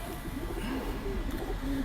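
Pigeons in a Lahore loft coo softly and repeatedly over a steady low background hum, with no voices.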